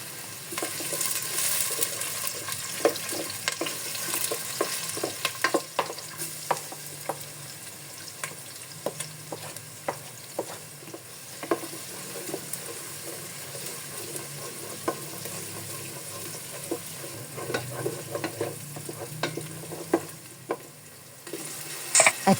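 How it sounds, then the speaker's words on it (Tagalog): Onion and garlic sauté in a hot pan for shrimp sinigang, a steady close sizzle broken by frequent scraping and stirring clicks of a utensil throughout. "nanggisa muna ako ng sibuyas at bawang"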